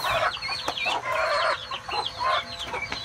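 Chicks peep and a hen clucks at a rooftop nest, with bright chirps and soft clucks repeating in quick overlapping bursts close by; no speech.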